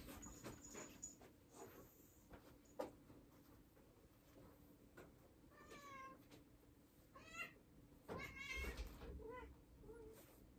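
A cat meows several times indoors, drawn-out rising and falling calls spread across the stretch, fairly close but quiet, among scattered clicks and rustling.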